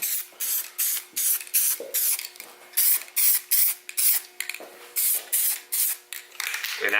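Short, sharp aerosol hisses from a spray can laying a light first coat of olive green direct-to-metal paint on a VQ35DE throttle body, a quick rhythmic series of about fifteen close bursts.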